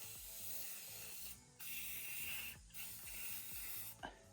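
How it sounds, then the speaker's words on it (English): Aerosol can spraying matte clear coat sealer over handmade wood fall and Halloween crafts, three close hissing bursts separated by short pauses, with a steady music bed underneath. "And then we're gonna spray it again."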